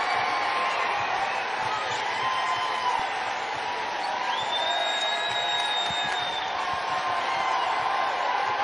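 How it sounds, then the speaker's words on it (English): A basketball arena crowd at an NCAA game rises to its feet as an upset nears, a sustained roar of cheering and whooping with a faint whistle-like tone through the middle, while a commentator talks. "Crowd rising to its feet."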